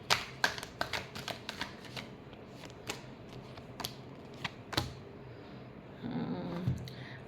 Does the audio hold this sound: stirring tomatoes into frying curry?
no